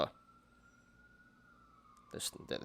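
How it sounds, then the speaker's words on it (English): An ambulance siren passes outside, a thin sustained tone holding steady at a distance for a couple of seconds before a burst of nearer noise cuts across it. "Another ambulance."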